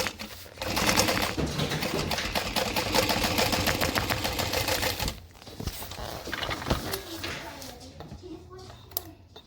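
A sewing machine topstitches a bag seam in a rapid, steady mechanical whir of needle strokes that stops abruptly partway through, with a few softer clicks and handling noises after, recorded close.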